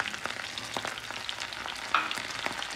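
Hot sauce stirred with butter and spices in a pan, a soft continuous sizzle with scraping stir strokes, close and fairly quiet.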